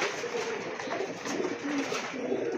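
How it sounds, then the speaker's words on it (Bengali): Many pigeons kept together in cages at a pigeon farm in Ashulia, Savar, coo in soft overlapping low calls, close by and fairly quiet. "দেখা যাচ্ছে আপনার একটা খাঁচাতে আপনার অনেকগুলো করে কবুতর রাখা আছে"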